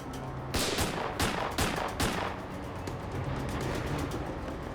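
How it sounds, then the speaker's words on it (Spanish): A rapid burst of loud gunshots, several sharp cracks in quick succession, then a continued rattle of fire fading into a noisy background. "hombre continuó disparando al oficial Rogers"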